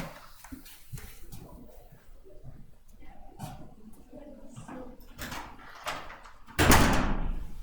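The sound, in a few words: doors being closed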